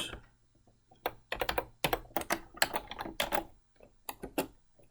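Rapid computer keyboard typing during Excel work, with keystrokes and shortcut presses clattering in quick irregular bursts and short pauses, close and clear, with no voices.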